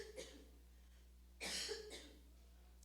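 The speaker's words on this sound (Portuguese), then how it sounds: "De vez em quando eu vou precisar parar para tossir" A single cough rings out clearly in a quiet room, preceded by a fainter throat sound, close to the microphone with no talk over it.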